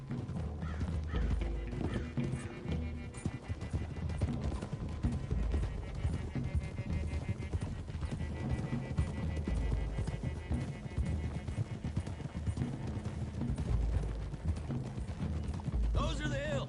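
Hooves clip-clop rapidly and continuously as horses gallop in Red Dead, with an occasional whinny and voices underneath, all fairly faint in a busy mix.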